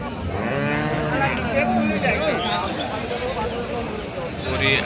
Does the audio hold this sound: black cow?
yes